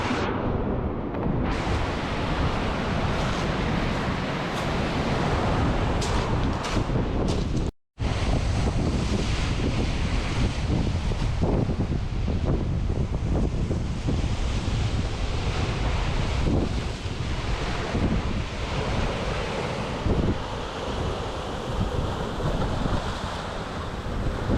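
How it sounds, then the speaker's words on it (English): Strong wind roars over the microphone while heavy North Sea surf churns and crashes continuously over coastal rocks in Scotland, with a brief dropout partway through. "I've not seen the waves this crazy here for ages"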